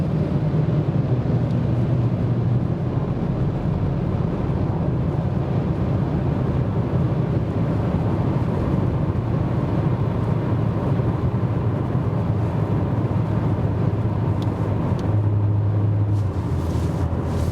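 An Audi S5 Coupé cruises on adaptive cruise control, heard as a steady low road and wind rumble inside the cabin with no speech.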